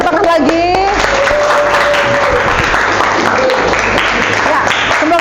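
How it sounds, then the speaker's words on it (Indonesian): Classroom applause from students in a biology lesson, dense clapping filling the room for several seconds with a voice and some tonal sounds over the top. "Ini boleh tepuk tangan lagi."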